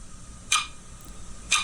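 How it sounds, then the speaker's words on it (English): A Pomodoro study timer app ticks twice at an even one-second pace, each tick a crisp, bright click over faint room hiss. "You definitely need to turn off the ticking feature."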